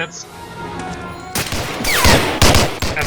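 Pistol gunfire in the World War II shooter game Medal of Honor: Allied Assault, with several loud, close sharp shots in the second half following a quieter stretch of background game ambience.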